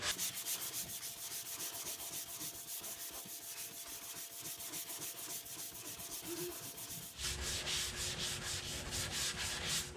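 Steady back-and-forth rasping of a sanding block working primer on a car body panel with fine 320-grit paper, dense rhythmic strokes continuing throughout and growing brighter and harsher toward the end, with no talking.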